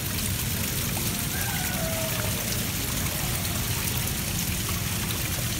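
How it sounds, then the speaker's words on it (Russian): A small artificial waterfall inside a Cabela's outdoor store in the USA splashes and trickles in a constant, even wash of water noise that fills the whole stretch, close and fairly loud. "А тут они такой водопадик сделали маленький"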